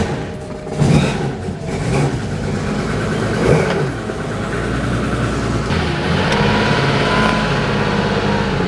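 Porsche 911 engine fires up with a rough surge and then keeps running with a steady, loud mechanical drone and a few small throttle swells, close by with no talk.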